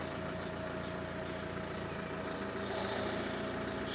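A used car engine idles steadily just after starting, a low even hum with a faint periodic ticking, quiet and continuous with no speech.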